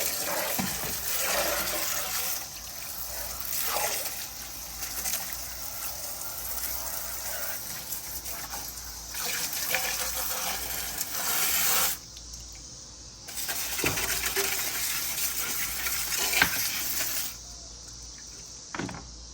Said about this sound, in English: you're actually just going to spray the inside of the tank